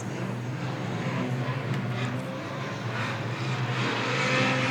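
Several street stock race cars at the start of a 20-lap oval race, a steady, blended engine roar at a moderate distance that swells slightly as they accelerate.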